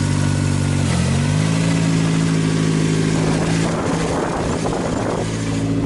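A Dodge SRT-4 engine and transmission run loudly during a test, with a steady droning engine note whose pitch shifts as the gears change, up through and back down into third.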